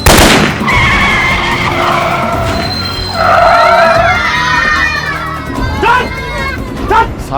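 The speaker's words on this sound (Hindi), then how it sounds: "सालों ने गाड़ी के टायर पंचर कर दिए" A car skids with long tyre squeals after its tyres are shot and punctured, loud and close over several seconds, with people shouting and talking throughout.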